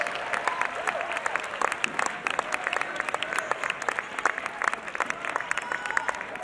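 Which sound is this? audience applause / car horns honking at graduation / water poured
audience applause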